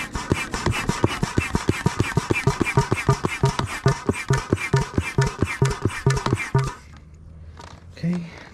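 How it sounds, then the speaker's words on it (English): Dual action hand pump inflating a Bote Aero inflatable kayak, with rapid regular rasping strokes of air for about seven seconds before it stops; wind noise and a brief voice are heard afterward. "every up pump and down pump, you're getting air put into it"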